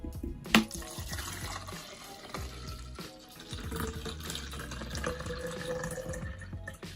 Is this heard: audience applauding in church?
no